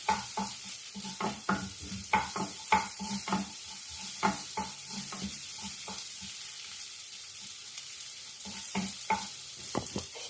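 Garlic sautéing in a pan after beef, a continuous bright sizzle with frequent rhythmic spatula scrapes and taps, close and alone.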